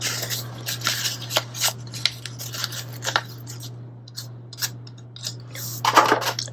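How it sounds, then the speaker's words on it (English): A hand-held X-Acto knife cutting paper on a planner page at a desk, giving a series of short, close scraping and slicing strokes in uneven rhythm over a steady low hum, with a busier burst of cuts at the end. "So I'm going to go ahead and cut it with my X-Acto."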